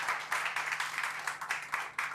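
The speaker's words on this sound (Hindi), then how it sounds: "तो क्यों ना जोरदार तालियों से हम इनका स्वागत करें।" A church congregation at a Hindi worship service claps to welcome the pastor, producing a steady, moderately loud run of applause with rippling bursts throughout and no talking.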